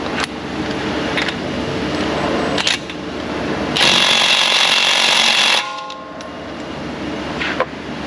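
In a repair shop, a mid-torque impact wrench hammers loudly at a stubborn axle nut in several short bursts, then one sustained rattling run before stopping.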